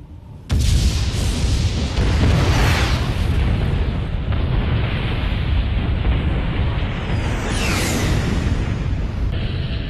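A huge explosion in the jet combat game Ace Combat 6: Fires of Liberation erupts suddenly and roars on as a loud, sustained rumbling blast with a rising whoosh near the end, with no voices over it.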